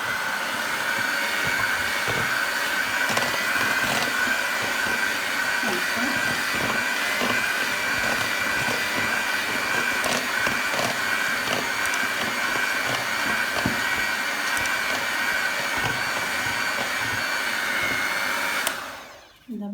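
Electric hand mixer whirs steadily for nearly twenty seconds, beating chocolate cake batter flavored with instant coffee, a continuous close-up motor drone that cuts off abruptly at the end.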